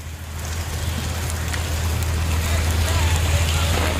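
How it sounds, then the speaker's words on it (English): Heavy, furious rain pours down steadily in Delhi, a dense continuous hiss of water with a low rumble underneath, loud and unbroken throughout. "this furious rain that is taking place in the capital, Nabila."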